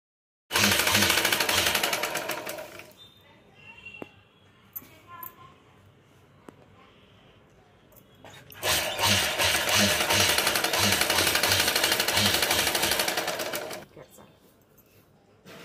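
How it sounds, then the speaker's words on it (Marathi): A sewing machine stitches a cloth flag in two long rapid runs of needle clatter, loud and close, with a quiet pause between them and brief talk around the runs. "या पद्धतीनं आपणही घरच्या घरी झेंडा आपण शिवू शकतोय."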